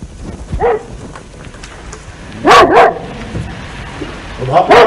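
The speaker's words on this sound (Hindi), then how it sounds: "अगर ये कुत्ता भौंकेगा तो मैं इस पर चिल्लाऊंगा" A dog in an old Pakistani TV drama barks in short bursts, one early single bark, a loud double bark midway and another pair at the end, over a quiet background.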